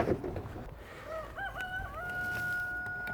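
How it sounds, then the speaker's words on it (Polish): A rooster crows once near beehives, a long wavering call that rises and then holds a drawn-out note, fairly near, after a brief rustle. "Kogut potwierdza."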